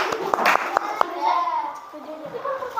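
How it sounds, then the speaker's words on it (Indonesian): A handful of sharp claps from classroom children cheering a classmate, quick and uneven, followed by children chattering over a faint background. "Tepuk tangan untuk temannya."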